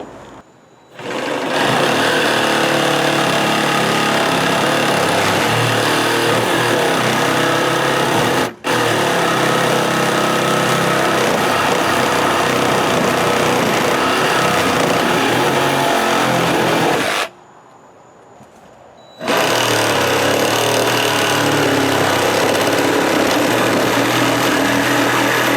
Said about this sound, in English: I have a Sawzall with me. I'm just going to cut it right here for now.